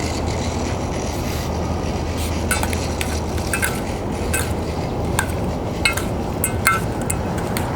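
Chicken salad stirred in a bowl gives off repeated light clinks and scraping against the dish, steady and fairly close, with no talking.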